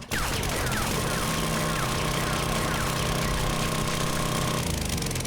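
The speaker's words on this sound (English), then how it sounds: "Let's drill a hole" Drilling a hole in the survival game 7 Days to Die (alpha 16.4): a loud, steady mechanical grinding drone with a sustained motor whine runs without a break for about five seconds, then eases slightly at the end.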